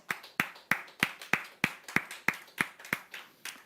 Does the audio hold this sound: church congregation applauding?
yes